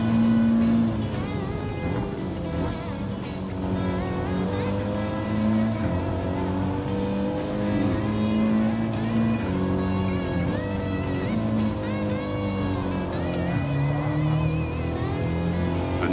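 A race car laps a circuit on cold tyres, its engine droning loud and steady throughout with rising and falling pitch through gears and corners, close to the microphone.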